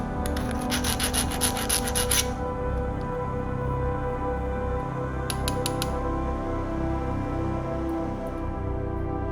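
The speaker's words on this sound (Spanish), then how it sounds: "Limamos las rebabas." Burrs being filed off a hole drilled with a 1/4-inch bit, a rapid burst of rasping strokes at the start, a shorter burst midway, and a steady background hum between them.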